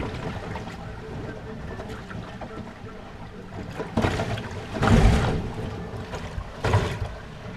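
A sailboat sails through open water at about 7 knots on a passage from Martinique to St. Martin, with a steady wash of hull noise and wind and several louder surges of spray.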